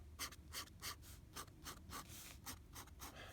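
Pen strokes scratch across a paper tablet in quick, rhythmic bursts, about a dozen short scrapes with brief pauses, close and quiet with no talking.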